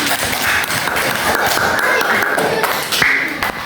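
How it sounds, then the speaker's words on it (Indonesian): A classroom of students claps hands during a micro-teaching lesson, irregular close claps and taps mixed with voices and a tonal sound, fairly loud and busy throughout. "Tepuk tangan untuk soal hari ini."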